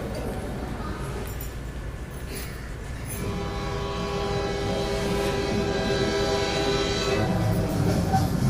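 A passenger train starts to move, its low rumble rising steadily from a quiet start and settling into a continuous, growing roll of wheels and carriages, heard from on board with faint background voices.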